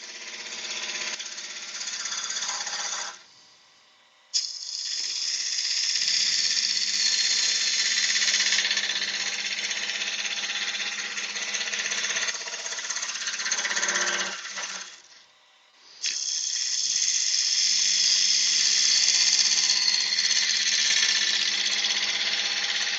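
A woodturning gouge cuts a wooden vase spinning on a lathe, making a loud, continuous high scraping hiss. It stops briefly twice and then resumes with no talking.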